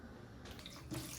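Tap water runs steadily over raw chicken in a kitchen sink, a soft continuous splashing rush with a brief louder slosh near the end.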